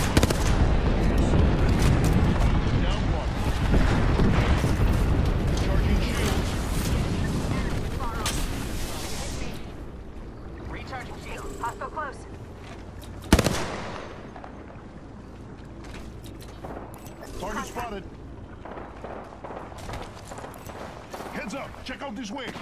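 Sustained gunfire in the battle royale shooter Apex Legends: dense, rapid shots and booms for the first ten seconds, thinning out afterward, with one loud isolated blast mid-clip and talk over the in-game noise.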